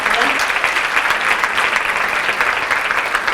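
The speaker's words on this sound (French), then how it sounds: "ça mérite des applaudissements quand même" A crowd applauds steadily, a dense wash of clapping at full volume that holds evenly throughout.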